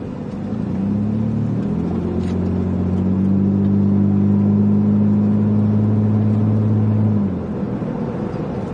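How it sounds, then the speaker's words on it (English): A truck making a left-hand turn accelerates on a road during a storm. Its engine hums steadily and swells into a louder, rising drone for several seconds, then eases back, with no voices. "Truck was making a left-hand turn."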